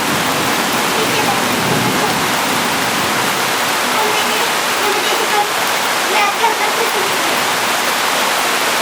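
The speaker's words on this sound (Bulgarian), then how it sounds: "Отгоре изпуснаха те, водата изпуснаха отгоре." Floodwater released from upstream rushes loudly and continuously through a street in Aspraukhovo, Varna, a dense roaring wash like a torrent or waterfall, close and steady throughout with faint voices underneath.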